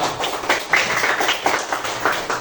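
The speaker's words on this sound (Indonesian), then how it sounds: "Tepuk tangan kita semua." A class clapping hands together in a patterned rhythm, quick bursts of claps with short pauses, close and moderately loud.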